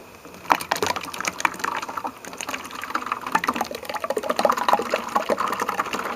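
Homemade laundry soap pours into plastic juice and Tide jugs, a close, wet gurgling and splashing stream with scattered knocks and clunks of the containers, carrying on steadily for several seconds with no talking.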